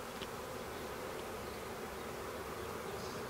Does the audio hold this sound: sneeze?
no